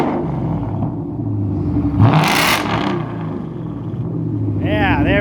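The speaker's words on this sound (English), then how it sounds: "So if you want to rev it up, go for it." A car engine revving loudly, rising to a sharp roar midway and settling back into a rumbling idle, with people talking over it.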